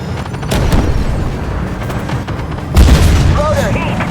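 A heavy boom of a tank shell striking the player's tank in the video game Armored Warfare, a loud low impact rising midway through rumbling battle noise, with crew voices around it.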